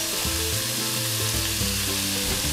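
Pork sizzling loudly and continuously in a hot pan while cooking a stir-fried instant noodle dish, a dense close crackle with a low hum underneath and no voices.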